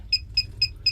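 A caravan water pump control panel beeps four times in a steady, evenly spaced rhythm of short, bright electronic tones, close and clear over a low background hum.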